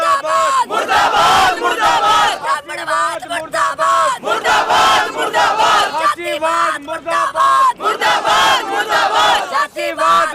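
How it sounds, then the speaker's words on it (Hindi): A protest crowd gathered outside Burari police station chants slogans in loud, rhythmic unison, the massed voices rising and falling in repeated bursts close at hand. "ये नारे जो लग रहे हैं यहाँ पे"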